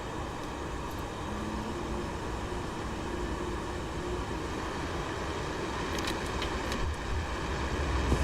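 An F-4E jet engine in a flight simulator gives a steady, even roar that builds slightly and holds throughout, with no speech.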